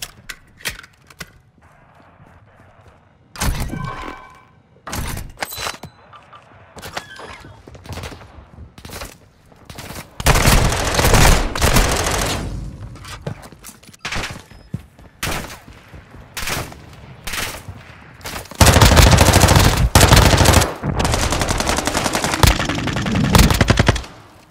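In the shooter game Call of Duty Modern Warfare 2, loud bursts of automatic gunfire come in rapid volleys, some long and sustained and others short and sporadic, from near and far, with brief quieter gaps between them.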